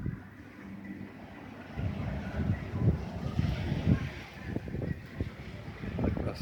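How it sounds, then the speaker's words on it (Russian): Strong, cold autumn wind in the seaside village of Arkhipo-Osipovka buffets the microphone with a steady low rumble that swells into heavier, uneven gusts after the first couple of seconds, close and loud throughout with no clear speech. "какой ветер сильный"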